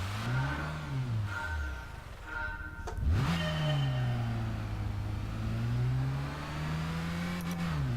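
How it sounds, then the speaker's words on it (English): Simulated car engine in Gran Turismo 5 revving hard, pitch climbing and bouncing off the rev limiter with a sharp drop near the middle before winding up again, loud and continuous. "Oh, I hit the rev limiter."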